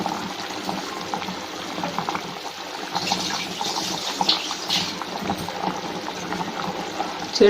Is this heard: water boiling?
yes